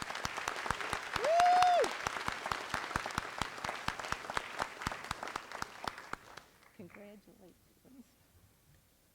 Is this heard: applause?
yes